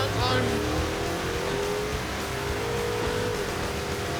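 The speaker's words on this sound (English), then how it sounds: "So I got a burnout this time." A car does a burnout, its engine roaring loud and steady as the rear tires spin, with a rising tonal whine running through the whole stretch; a voice talks over it near the start.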